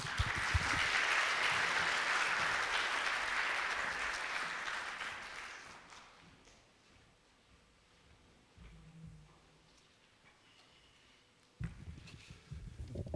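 An audience at a college innovation results-sharing event applauds its university president, with a full burst of clapping that fades out over about six seconds, followed by faint rustling, footsteps and a brief thump near the end.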